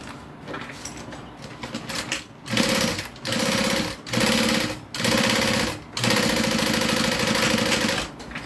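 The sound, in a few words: sewing machine top-stitching a bag zipper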